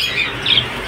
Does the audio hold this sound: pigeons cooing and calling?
yes